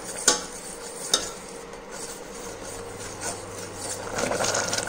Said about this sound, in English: gonna stir continuously to make this a thick cream